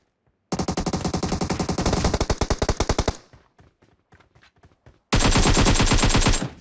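Automatic gunfire in PUBG Mobile, a loud rapid burst of shots for about two and a half seconds, then scattered quieter pops and echoes, followed by another sustained loud volley near the end.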